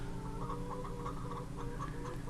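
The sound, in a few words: chickens clucking on a homestead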